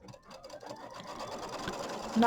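A sewing machine quilts a Kimberbell mini quilt with a steady, moderate mechanical whir that builds slightly toward the end, heard alone at close range.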